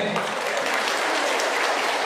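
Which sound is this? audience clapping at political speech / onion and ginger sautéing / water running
audience clapping at political speech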